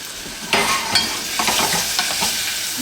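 Chicken and vegetables seasoned with salt and pepper sizzle in a pan while being stirred, with close scraping and shuffling strokes over a constant frying hiss.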